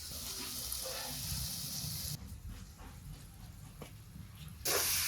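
Carrot, capsicum and raisins fry in white oil in a pan, giving a steady close sizzling hiss that dips briefly in the middle and then flares up loudly again.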